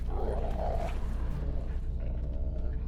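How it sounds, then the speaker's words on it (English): Dogs barking in The Witcher 3: Wild Hunt, a few gruff, fairly close barks and growls over a steady game ambience, with no talk. "Just beware of the dogs."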